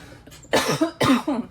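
Two harsh coughs in quick succession, close and loud, with no talking.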